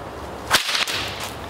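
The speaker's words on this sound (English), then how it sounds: "I crack this whip real loud over here and you go away from the sound right where I want you to go" A single sharp bullwhip crack, loud and close, used to drive cattle, followed by a brief swishing tail in an otherwise quiet outdoor setting.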